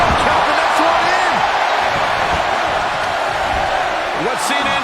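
Wrestling arena crowd roaring continuously through a Royal Rumble match, a dense loud wash of cheering with a few whoops rising near the end.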